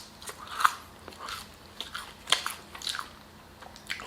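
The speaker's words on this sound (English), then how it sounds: "With some crinkle fries." Someone bites and chews crunchy Arby's crinkle fries close up, a string of sharp crisp crunches spread irregularly over a few seconds with no talk.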